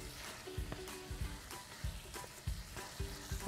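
Meat frying with garlic or onion in a pan, a steady sizzle overlaid with repeated scraping stirs and bumps at a fairly regular pace, close and moderately loud with no talking.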